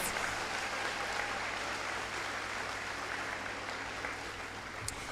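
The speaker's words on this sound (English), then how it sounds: "please give them another rousing round of applause" A large crowd at a high school valedictory service applauds steadily, a dense wash of clapping sustained throughout at an even volume.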